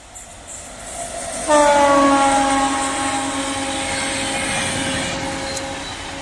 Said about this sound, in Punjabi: ਟ੍ਰੇਨ ਆ ਚੁੱਕੀ ਆ